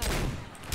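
A brief, loud burst of rapid gunfire from Left 4 Dead 2 gameplay against zombies, dense shots packed close together with no talk.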